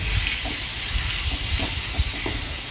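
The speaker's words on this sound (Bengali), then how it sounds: "এবার আমরা এটাকে তেলের মধ্যে দিয়ে দেব এবং ভালোভাবে নেড়ে চেড়ে এটাকে ফ্রাই করে নেব।" Marinated meat frying in hot oil, producing a steady, moderately loud hiss and sizzle with small pops scattered throughout.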